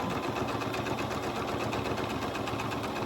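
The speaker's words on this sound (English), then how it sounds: "Give it a couple stitches and then give a back stitch. And sew all the way down." Sewing machine stitching cuffs onto a pair of pants, running in a steady, continuous, fast mechanical rattle from start to finish with no talk.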